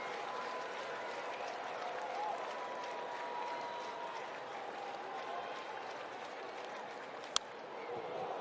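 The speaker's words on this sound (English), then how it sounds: "This crowd coming alive here in the bottom of the 9th in a scoreless game." A baseball stadium crowd at a Marlins vs Cardinals game in the bottom of the ninth of a scoreless game, a steady distant roar of cheering and applause with a faint voice, one sharp click near the end.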